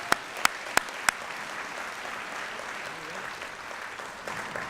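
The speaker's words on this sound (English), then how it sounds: "Let's all give them a round of applause" A few sharp, separate hand claps open an audience's round of applause for student service projects at a school fair, then settle into a soft, wash of clapping that continues quietly.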